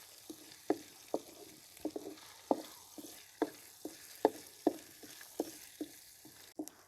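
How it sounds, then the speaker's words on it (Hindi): Garlic and ginger paste frying with roasted cumin in a pan, a soft continuous sizzle broken by a dozen or so sharp scraping clicks from stirring at an uneven, roughly half-second pace, close and quiet, with no voices. "लहसुन अदरक अच्छी तरह रोस्ट हो चुका है।"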